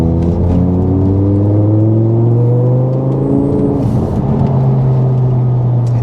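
An Audi R8 accelerates hard through automatic gear changes, its loud engine climbing in pitch, dropping at a shift, then climbing again, heard close up with no talk.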